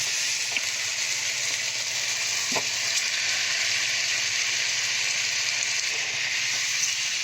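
Fried potatoes sit in a pan of sizzling tomato masala for a mince and potato dum, giving a dense, even hiss close by with a few faint knocks.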